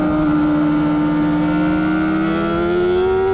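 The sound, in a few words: motorcycle engine on a race track during a track day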